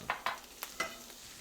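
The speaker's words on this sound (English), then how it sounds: "we need a really hot pan for our mushrooms" Mushrooms toss in a very hot pan, a few quick soft stirring scrapes and bursts of faint sizzle, close and quiet.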